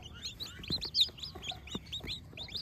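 Pelung chickens on a farm make soft repeated clucks and short chirpy calls in a quick uneven rhythm, fairly faint and close, with no talk over them.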